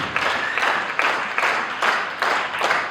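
A church congregation at a celebration claps in steady rhythmic bursts, roughly five or six even swells of applause, full and close, with no talking over the clapping.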